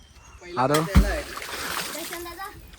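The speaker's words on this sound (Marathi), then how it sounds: "तर पहिली उडी हा टाकणार आहे" A person jumps into a village well during a rainy-season swim in Konkan, and a loud close splash of water sounds partway through as people talk excitedly around it.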